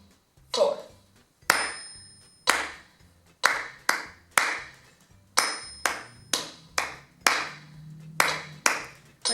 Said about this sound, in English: So let me clap it for you.